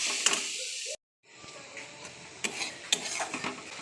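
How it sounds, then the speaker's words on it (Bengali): Spices with salt, turmeric and cumin being stirred and sautéed in a pan, light sizzle with scraping and utensil clinks against the pan, briefly cut by a gap of silence. "এবার মশলাটা কষবো"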